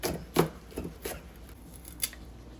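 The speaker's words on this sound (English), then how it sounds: "Add some green scallions, some cilantro, chop those as well and add them." Knife chopping green scallions and cilantro on a board for Jamaican curry goat, a few separate cuts spaced apart, soft and close with no talk.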